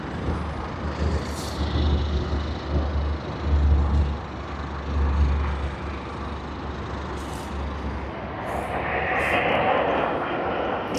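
A Garuda Indonesia airliner taxiing to runway 34L at Sydney Airport, heard as a continuous low jet engine rumble and whine at a moderate distance, with faint talk at times.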